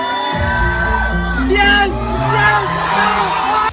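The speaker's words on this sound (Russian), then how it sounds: "Все кричат, верещат, жесть." A convention crowd screams, whoops and yells at a Sonic Mania trailer reveal, a loud, dense wall of excited shrieks and cheering that rises and falls over a few seconds.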